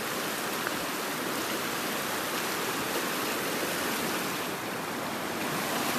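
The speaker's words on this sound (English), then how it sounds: "I would say it's flowing pretty fast and the water's pretty high" Fast-flowing, high river water rushes in a steady, loud broadband roar that stays unbroken for the whole stretch, with no voices over it.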